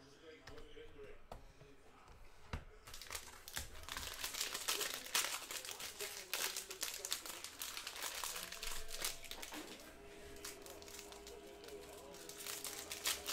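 A cello pack of 2020 Panini Prizm NFL cards is ripped open, with crinkling and tearing of the plastic wrapper heard close up under steady talk and background noise.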